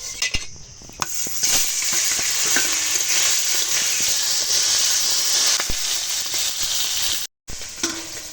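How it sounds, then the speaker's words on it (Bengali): Fish fries in hot oil in a kadai, a loud, continuous hissing sizzle with scattered spatters and a few clinks of utensils. The sound cuts out briefly near the end and then resumes. "আমার তেল গরম হয়ে গেছে মাছ দিয়ে দেবো কড়াইতে"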